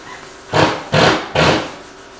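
Hand sanding a car body panel coated with guide coat, three distinct rasping strokes in steady rhythm, close and moderately loud with no talking.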